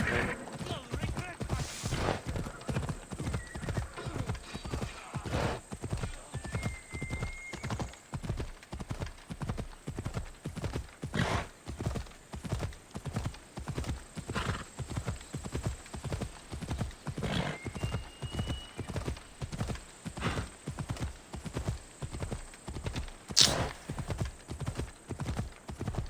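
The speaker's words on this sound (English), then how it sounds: "Why does the horse slow down?" Steady, rhythmic video game horse hoofbeats clip-clopping at a trot, clear and close, with a brief whinny early on.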